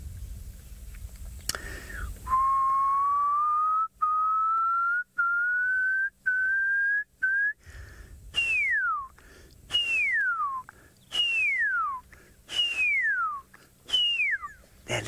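A person whistles to imitate an owl call on a wildlife safari, first one long slowly rising note, then a run of six short falling whistles repeated at a steady pace, clear and close with no talk.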